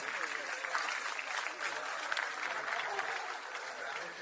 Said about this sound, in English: Can we have a loud round of applause for Simran Meena